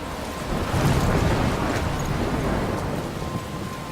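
Thunderstorm in the video game Life is Strange: dense rain hiss and gusting wind with a low rumbling swell of thunder early on, loud and continuous, no voices.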